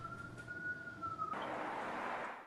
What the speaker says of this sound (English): A police siren can clearly be heard in the background